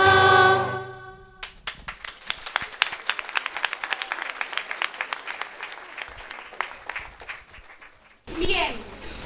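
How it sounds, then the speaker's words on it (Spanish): A theatre audience at a musical bursts into loud applause, many hands clapping densely and rhythmically for several seconds after the music cuts off, the clapping fading as cheers and voices rise at the end. "tras escuchar los aplausos del público"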